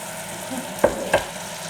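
Sausages fry in a pan and get stirred, with two short scraping stir sounds over a soft sizzle, close and brief, no talking.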